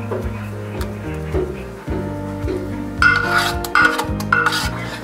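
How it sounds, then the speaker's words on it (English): Cake batter for a Jamaican sorrel fruit cake is scooped with a 1 cup measure into baking pans, giving soft scraping and tapping of metal and utensils, with clinks growing louder in the second half over a steady music bed. "I'm just gonna go ahead and put equal amount of batter in each one. So I'm gonna be using a 1 cup measure to help me."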